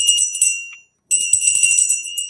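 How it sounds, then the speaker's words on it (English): A small bell is rung in two bright, jingling bursts separated by a short silent gap, close and fairly loud, with no speech. "Why are you ringing a bell?"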